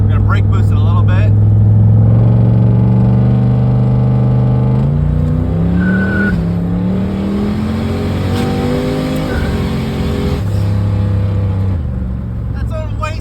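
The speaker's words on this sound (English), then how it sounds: "We're gonna brake boost it a little bit." Turbocharged Ford Mustang held on the brakes to build boost, its engine droning loud and steady, then revving upward with rising pitch before settling back to idle, with wastegate chatter close by.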